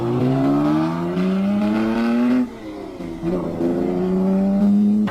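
Several 1955 Le Mans racing car engines, including a Lagonda, roar and whine past one after another, pitch rising and shifting as each car speeds by, loud and continuous.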